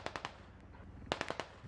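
Russian forces in a military squad game fire off two quick bursts of gunfire, rapid cracks a short way off, separated by a brief lull.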